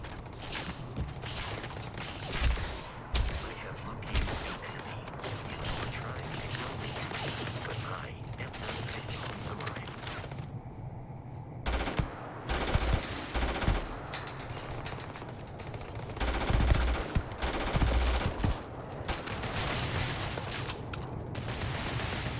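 Bursts of rapid automatic gunfire in the Starfield game, fighting pirates, crackle through a long stretch in repeated volleys with brief pauses, sharp shots and mechanical clatter, moderately loud with faint voice underneath.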